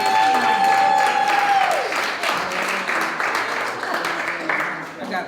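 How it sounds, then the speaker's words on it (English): A crowd at a live open mic show claps and cheers, a steady wash of applause throughout, with a whistle-like tone early on and voices mixed into the noise. "Give yourself a round of applause."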